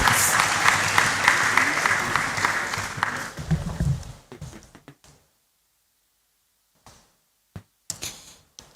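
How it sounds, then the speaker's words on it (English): An audience at the Annual New Year School and Conference applauds in a hall, several seconds of steady crowd clapping that fades out, followed by silence and a few scattered knocks and clicks. "Please let's receive her with a loud round of applause."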